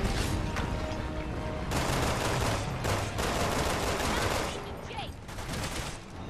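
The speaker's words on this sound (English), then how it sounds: "get out of the way and shoot the explosive!" Rapid gunfire in Resident Evil 6 rattles in dense bursts, loud and close, over busy game noise and effects.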